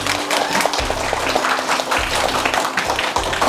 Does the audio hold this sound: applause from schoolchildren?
yes